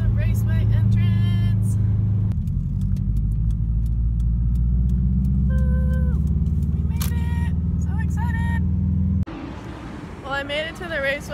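Cars roar past at Sonoma Raceway during a speed festival, a loud continuous engine drone close by with revving and shifts, while voices talk over it now and then.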